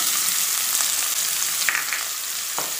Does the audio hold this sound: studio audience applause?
no